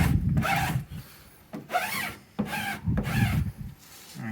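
A flat scraping tool is rubbed firmly across a vinyl decal on the boot of a first-generation Mazda MX5, pushing out trapped air in several strokes that give close, dry swishing rubs separated by short pauses.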